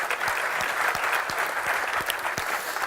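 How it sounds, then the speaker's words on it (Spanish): Steady applause from a medical conference audience after a speaker introduction, dense continuous clapping with individual claps standing out near, no voices over it. "Un aplauso para él."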